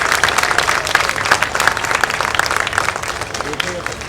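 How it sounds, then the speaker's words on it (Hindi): Audience clapping at a Shri Krishna festival event in Patna, a dense, steady wash of many hands that stays loud for the whole stretch, with voices faintly audible underneath. "आप ताली बजाइए"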